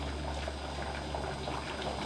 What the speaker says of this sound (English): if you notice in the background, you probably hear the water boiling